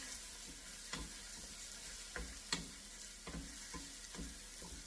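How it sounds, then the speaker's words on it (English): Food fries quietly in a pan while being stirred around, a soft continuous sizzle broken by several scraping strokes of the utensil, close and low in level, with no talk. "we're going to just cook that around, stir it around"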